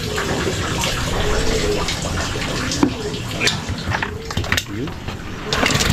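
Water splashes and gushes continuously as it is poured out, sloshing and gurgling up close with a few louder splashes.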